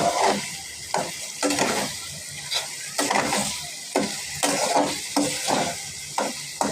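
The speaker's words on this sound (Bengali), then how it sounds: "আলু তো ভাজা হয়েছে" Potatoes fry in a pan with a constant close sizzle, broken by regular rhythmic scraping strokes of a spatula stirring them, with no talking.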